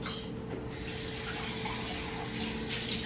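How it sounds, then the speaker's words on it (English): Running tap water rinsing out a measuring cup in a kitchen while cooking dinner, a steady close splashing hiss that swells after a brief start and continues alone. "Just gonna rinse this out."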